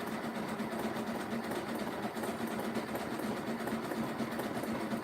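A sewing machine stitches a rope basket, running in a steady, even whirring hum with a fast repetitive needle rhythm throughout, close and moderately quiet.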